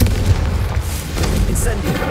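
The Confringo and Incendio explosive spells in Hogwarts Legacy make a continuous deep, booming rumble that stays loud and dense throughout, with no distinct separate blasts.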